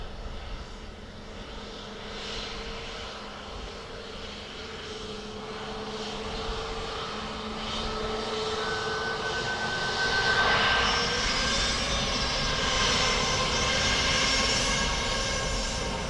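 A Ryanair airliner landing at Dublin Airport gives a steady, loud engine roar that swells gradually and holds strong toward the end, with no voices.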